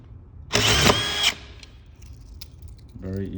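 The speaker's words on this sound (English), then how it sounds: "screw the drywall. Again, these are designed for metal studs" A DeWalt screw gun drives a drywall screw into a metal stud. One loud, close, high whirring burst lasts under a second, then fades to quieter handling noise before a voice briefly speaks at the end.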